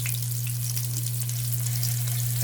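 Pork searing in a hot pan gives a steady, close crackling sizzle with a constant low electrical hum beneath it, and no talking.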